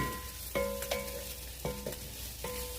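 Spiced food for a vegan breakfast is stirred in a sizzling pan, with a few distinct scraping stirs against a steady low frying hiss, close and fairly quiet.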